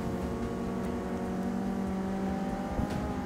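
Ford Capri engine in the Forza Motorsport 6 racing game, a steady loud droning hum with a faint rising rev toward the end, no talk over it.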